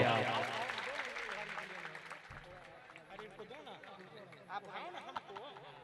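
An audience at a mushaira poetry gathering in a Nepal village claps amid crowd chatter and voices. The clapping is moderate and uneven, and it mixes with talk and laughter.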